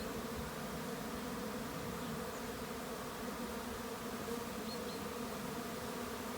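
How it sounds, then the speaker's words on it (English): Honey bee swarm near a hive, a dense continuous buzzing drone heard from within the swarm, steady and moderately loud with no pauses. "Looks like a big swarm and wants to go in this second hive."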